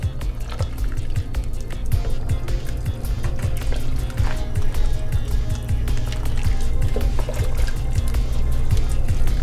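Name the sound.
stirring potatoes in a pot of chicken curry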